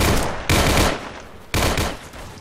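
Gunfire in the Roblox game Unit 1968: Vietnam, three loud, sustained bursts of close automatic fire, each starting sharply and then tailing off, with no talking.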